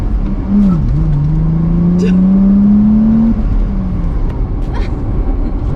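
A manual-transmission car accelerates hard, its engine note dipping briefly and then climbing steadily in pitch for a few seconds before dropping away, loud and close over a constant rumble of road noise.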